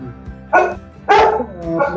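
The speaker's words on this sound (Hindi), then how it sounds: "मेरा कुत्ता भौंक रहा है" A pet dog at home barks three times in sharp, separated bursts, close and loud, with a brief yip-like quality.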